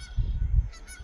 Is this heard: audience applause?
no